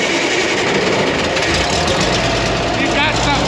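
A dragline's engine runs with a steady, heavy low rumble, loud and close. The rumble holds a constant idle through the clip, with a brief rising whine near the end.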